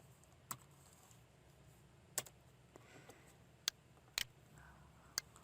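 Sparse keystrokes on a computer keyboard as numbers are typed into an Excel spreadsheet: about six crisp, separate clicks spread over a few seconds, close but quiet over a soft room hiss.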